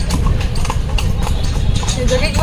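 Horse hooves clip-clop steadily as a horse-drawn carriage rolls past the Victoria Memorial in Kolkata, a continuous rhythmic clatter mixed with street noise and nearby talk.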